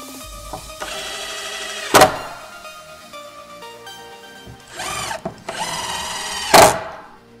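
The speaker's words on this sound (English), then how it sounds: "you can screw through the 2x6 into its adjacent piece with some 3-inch number 8 screws" Power drill driving 3-inch number 8 screws through plywood into a 2x6, several whirring bursts with sharp peaks as the screws seat, close and alone.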